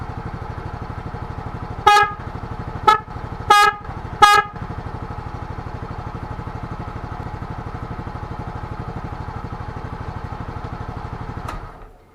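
A vehicle horn wired through an interrupter relay gives four short sharp blasts over a steady idling engine, then the engine drone cuts off.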